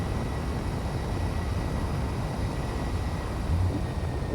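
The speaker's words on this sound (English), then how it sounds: "The thruster noise is just absolutely obnoxious." Spaceship thrusters in the Space Engineers survival game on a drone, a steady, loud broadband roar that holds at the same level throughout with no voices.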